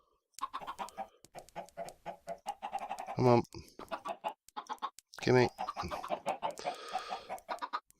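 A flock of Minecraft chickens in the Agrarian Skies modpack clucks in quick, repeated bursts, with two louder squawks standing out, while a voice speaks briefly over them.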